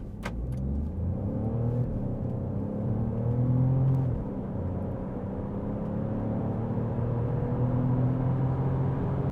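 An Alfa Romeo Junior Ibrida Speciale with automatic gearbox launches at full throttle from 0 to 100 in dynamic mode with ESP off. The engine note climbs steadily and close by, with a brief dip at an upshift before it pulls on.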